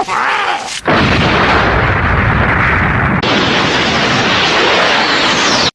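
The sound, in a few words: explosion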